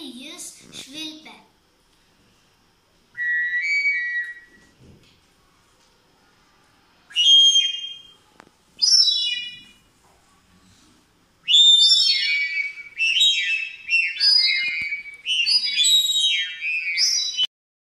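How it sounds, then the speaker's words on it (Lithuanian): Someone whistles by blowing air into a tube, producing a few short, high, clear whistle bursts separated by pauses, then a longer run of wavering tones near the end, loud and close, with no speech. "Orą į vamzdelį jis švilpia."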